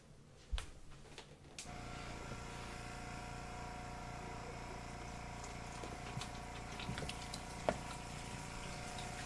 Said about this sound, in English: that's the sound of it filling up with water